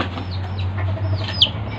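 Red jungle fowl of the Bangkok berugo breed, kept as village chickens with hen and chicks nearby, give soft clucks and short calls close by over a steady low hum, with one sharper chirp near the end.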